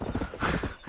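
A horse in the Red Dead Redemption video game gives a short whinny over a few close hoofbeats, quick and fairly quiet.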